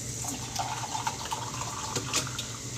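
Water runs from a household tap, a continuous moderate splashing stream with a few small clinks and knocks near the sink.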